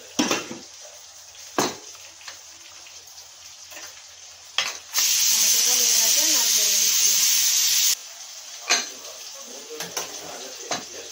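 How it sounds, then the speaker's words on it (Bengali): A pressure cooker cooking mutton curry lets out a sudden, loud, steady blast of hissing steam lasting about three seconds, with scattered pot and utensil clinks before and after. "কুকারে সিটি মেরে নেবো"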